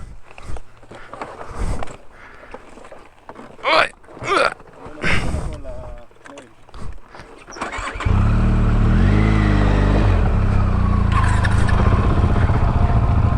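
A Benelli TRK502X motorcycle engine starts and settles into a steady, loud idle close by on an off-road trail, after footsteps and scattered voices talking nearby.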